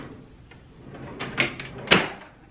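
A loud, sticking makeup vanity drawer slides with a scraping rattle, then two sharper knocks as it catches and bumps, close by in a quiet room.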